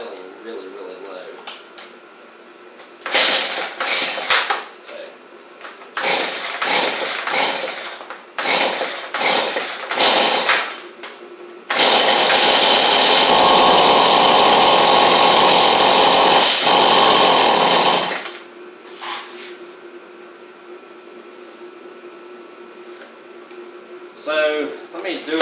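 A Stihl MS171 chainsaw engine runs in bursts of revving, then one long sustained roar before dropping back to a very low, rough idle; the saw is close and loud throughout.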